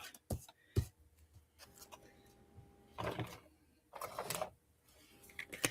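A deck of tarot cards being shuffled, with bursts of riffling and sharp taps in an irregular rhythm, close and fairly quiet.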